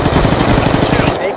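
Loud, close automatic gunfire from Call of Duty Black Ops 2 in Hardpoint mode, a rapid rhythmic burst of shots hammering for about a second before cutting off abruptly.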